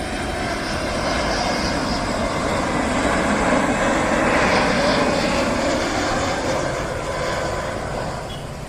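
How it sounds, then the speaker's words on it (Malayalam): An airliner landing at Karipur airport in Kondotty, a loud sustained jet engine roar that swells to a peak midway and then slowly recedes, heard from a nearby view point with no talking. "ഇവിടെ എത്തിയപ്പോൾ തന്നെ ഒരു ഫ്ലൈറ്റ് ഇറങ്ങി ചെയ്തു."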